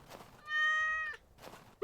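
A cat meows once in Stardew Valley, a single clear, close, drawn-out tonal cry between quiet pauses, with no talking.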